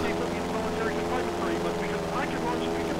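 Propeller airplane droning steadily in GTA San Andreas, a continuous engine hum with game music and a voice talking over it throughout.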